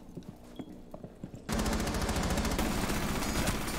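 Rapid automatic gunfire erupts in a shooter video game, a loud sustained burst of fast, evenly spaced shots after a few scattered quieter clicks and thuds.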